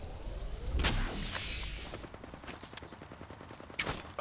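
Bursts of gunfire in the Apex Legends battle royale game, loud sharp shots clustering around the first second and again near the end, with rapid repeated reports between.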